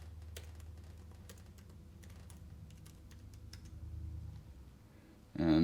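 Computer keyboard keys tapped for a password in a quiet room, a steady run of light, close clicks over a low hum, ending with a louder burst of sound.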